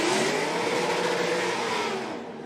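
A drift car engine screams at high revs during a Formula Drift Pro competition in Seattle, a steady loud roar that eases slightly toward the end.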